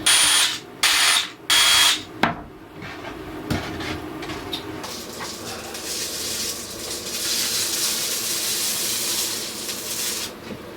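A power drill drives screws into ceiling tiles inside an ambulance converted to an RV, starting with several short loud whirring bursts, then sharp clicks and clunks, followed by a longer, quieter sustained hiss and rumble.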